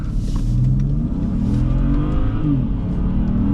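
A 2010 BMW 535i xDrive with the N55 engine accelerating from inside the cabin in cold weather, a steady, loud engine drone rising in pitch as it revs up without any talking.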